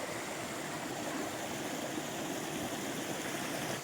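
Clear water flows steadily at the source of the Musi River in the Ananthagiri hills, a soft, even, broadband rush that stays constant throughout with no voices.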